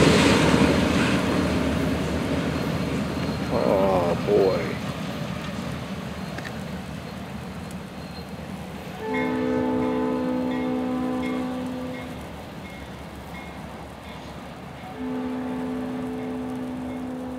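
A distant Florida East Coast Railway freight train rumbles by with broad low noise, then two separate long horn blasts sound, the second shorter, fairly far off.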